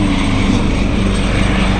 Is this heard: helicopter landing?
yes